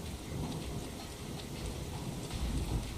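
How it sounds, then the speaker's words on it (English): Steady heavy rain pours in Ninja Gaiden 2 Black, a dense, continuous hiss with low rumbling underneath, loud and unbroken throughout with no voices. "The rain should be washing all this blood away."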